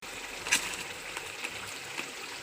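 Water pours into a pan of katla fish curry with a soft, steady splashing and trickling, close and moderately quiet, with a few brighter splash accents.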